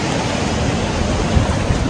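Ocean waves wash against a beach on a hot day, a continuous close roar of surf and rushing water with no voices.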